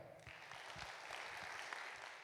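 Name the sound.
applause at a carol festival laureates' concert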